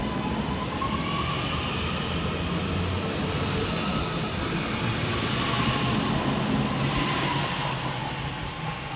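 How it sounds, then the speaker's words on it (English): Northern electric unit 331012 pulls out of Goostrey railway station, a steady rumble and rising traction whine with rolling wheel noise heard close and loud throughout, no voices. "we see the departure of 331012 working the 10:01 Northern service from Crewe through to Manchester Piccadilly going via Stockport"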